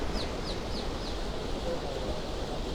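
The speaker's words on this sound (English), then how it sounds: "We have a few ducks." Ducks at the Medici fountain in Paris give four quick, evenly spaced calls early on, set against a steady wash of outdoor background noise, with no one talking.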